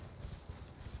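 Hooves of Torrent, the spectral steed from Elden Ring, galloping in a steady, quick clip-clop rhythm, close and fairly muffled, with no speech.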